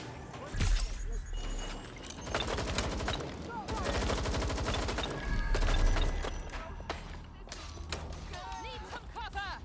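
Gunfire in the video game Watch Dogs: Legion: bursts of automatic fire and single shots crackle in clusters, mixed with shattering impacts, mechanical clatter and game voices.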